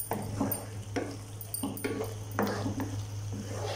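Eggs stirred into masala in a pan for egg thokku, a spoon scraping and clinking against the metal in irregular strokes. A steady low hum runs underneath.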